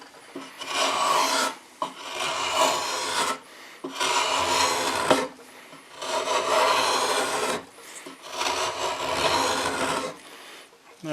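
A hand tool pulled along a wooden chair part during a painted chair build, shaving off curls of wood in four long, loud rasping strokes with short pauses between them.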